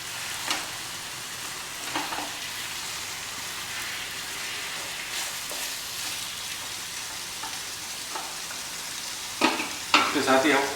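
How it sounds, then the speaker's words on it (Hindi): Mutton keema cooks with spices in a pan, giving a soft steady sizzle with intermittent scraping stirs, and a louder burst of spatula scraping near the end. "सारे मसाले जो है हमारे ये इस कीमे के साथ ही पकेंगे"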